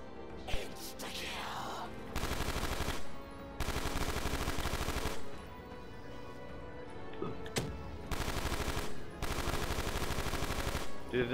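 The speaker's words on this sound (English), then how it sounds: "This Doom Cannon's badass" Doom Cannon from Black Ops 3 custom zombies firing in heavy sustained bursts of a second or two each, separated by brief quieter gaps with scattered smaller impacts.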